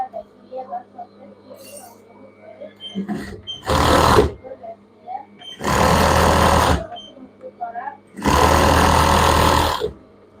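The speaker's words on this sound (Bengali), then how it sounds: "এখানে আমি দুইটা সেলাই দিয়ে দিচ্ছি" A sewing machine stitches children's pajama pants in three loud, close bursts, each lasting one to two seconds, with quieter handling and a speaking voice between them.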